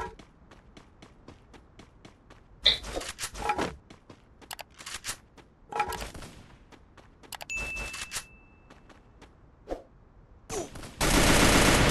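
Rapid gunfire bursts in the Free Fire battle royale game, mixed with metallic hit dings and clangs, arriving in several loud clusters with a sustained burst near the end, over quieter game ambience.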